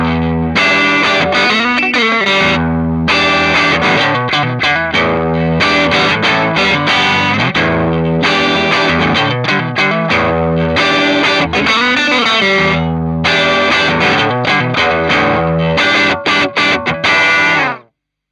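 A loud, distorted electric guitar riff with heavy effects, recorded with the microphone right at the amp grille, playing continuously with dense chords throughout.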